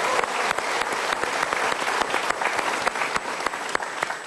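Studio audience applause on an Indonesian Metro TV talk show, dense and steady clapping from a sizable crowd running throughout, fairly loud with no talk over it.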